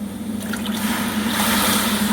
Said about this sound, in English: For our consuming purpose, we will add little more water towards it.